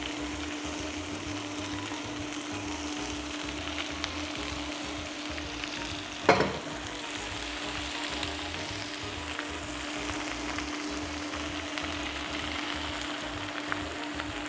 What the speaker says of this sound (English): Once you have the fragrance of the garlic, you're going to dump in your spinach.